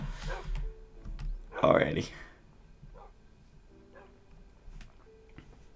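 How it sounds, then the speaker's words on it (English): In Minecraft, a dog's short burst of barking rises briefly over soft game clicks and ambience, while someone talks over the gameplay. "Oh, that barking is going to get annoying."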